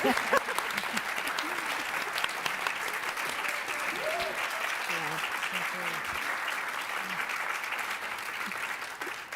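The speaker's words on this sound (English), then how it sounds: "Let's just give our panel, our esteemed panel, a round of applause." An audience gives a lecture panel a sustained round of applause at the annual Arturo A. Schomburg Lecture and Conversation, a loud, even wash of clapping for about nine seconds with voices and a few calls heard underneath.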